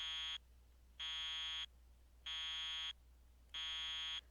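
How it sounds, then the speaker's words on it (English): Alarm sounding in a visual novel video game: four long, loud electronic beeps evenly spaced with short gaps, a steady buzzing tone over a low hum, no talking. "a beeping he wasn't used to, was ringing out"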